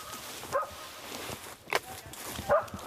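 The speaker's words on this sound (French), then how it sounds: "c'est un petit chien qui ne force pas, qui trouve le sanglier à la bauge, qui l'aboie" A small hunting dog barks at a wild boar in its bed during a big-game hunt, giving a few sharp barks spaced apart over a noisy background, with faint voices underneath.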